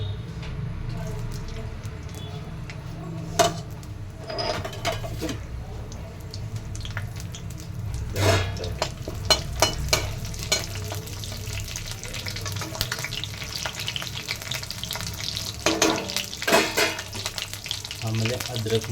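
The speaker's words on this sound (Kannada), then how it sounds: "ಎಣ್ಣೆ ಗರಂ ಆದ ನಂತರ ಸಾಸಿವೆ, ಜೀರಿಗೆ, ಆಮೇಲೆ ಸ್ವಲ್ಪ ಮಸಾಲ ಹಾಕೋಣ." Mustard seeds, cumin and chilli fry in hot oil with a continuous crackling sizzle, punctuated by sharp spoon scrapes and knocks against the pan, while a low hum and occasional faint voices sit underneath.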